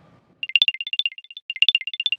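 Apple AirTag tracking alert chirping on a phone, two bursts of rapid high electronic beeps in a quick rising-and-falling pattern, loud and clear with nothing else behind it.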